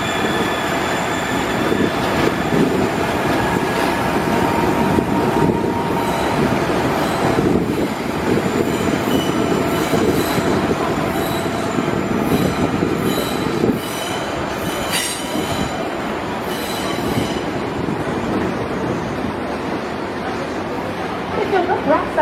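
Train car rolling along rails on a canyon line beside a steel water pipeline, wheels squealing and grinding continuously and loud close by, with steady rumble and occasional clatter throughout.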